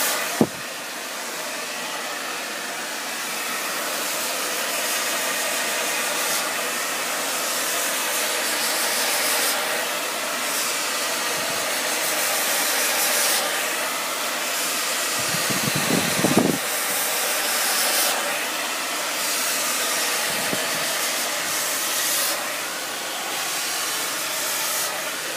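Hair dryer blowing hot air while drying natural hair, a continuous loud rushing hiss held close by, with brief dips and shifts as the airflow moves, and no talking.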